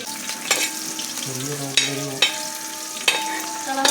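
Food sizzles in a hot pan while a utensil stirs and scrapes it in repeated clattering strokes, close and clear with no talking.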